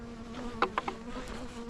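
Honey bees buzz around a hive during a July inspection, with several close passes of individual insects flying by the ear over a low, steady hum.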